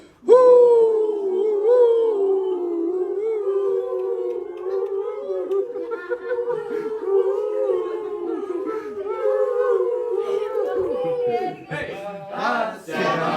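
Several people howl together for a Labrador's birthday, a long sustained chorus of wavering, sung-style howls that continues loudly throughout, voices imitating a dog's howl, with a burst of noisy chatter near the end.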